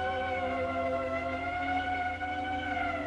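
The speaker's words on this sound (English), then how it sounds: "The ambulance." An ambulance siren sounds in a steady, loud, sustained harmonic wail that runs unbroken for a few seconds, with no voices.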